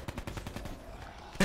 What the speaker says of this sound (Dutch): Ik knal gewoon al die zombies af